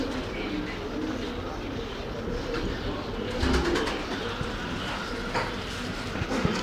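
Tumbler pigeons coo and flutter at a busy bird market in Ankara, Turkey, their soft calls mixed with crowd murmur and distant market bustle throughout.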